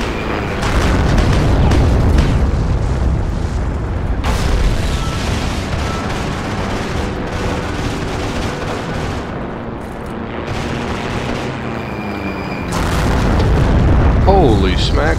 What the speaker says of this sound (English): how are they dropping bombs inside here?